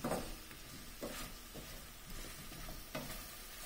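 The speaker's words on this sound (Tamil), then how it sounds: "நல்லா கலந்து விட்டுக்கலாம்" Cauliflower gravy with green chillies stirred in a pan, a steady sizzle broken by several scraping stirs of the spoon, close and fairly loud, with no voices.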